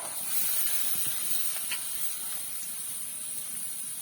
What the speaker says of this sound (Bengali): ছোলার সাথে পেঁয়াজটাকে ভালো করে ভেজে নিতে হবে।